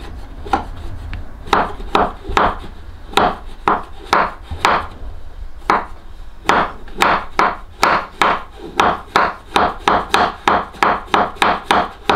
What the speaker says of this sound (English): I'm going to get the white chocolate, have the flat side down, and I'm basically going to scrape the knife along.